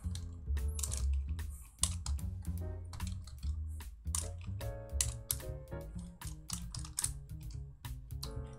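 Rapid typing on a computer keyboard, dense runs of sharp clicks and keystrokes with short pauses, close and fairly loud throughout, no talking.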